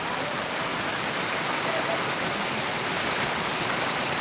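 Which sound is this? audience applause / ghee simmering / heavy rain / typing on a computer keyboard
heavy rain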